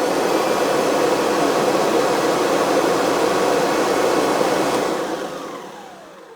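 Kirby Ultimate G3 prototype upright vacuum cleaner with an LED headlight running: a steady, loud broadband whooshing motor roar that holds evenly for about five seconds, then winds down and fades as it shuts off.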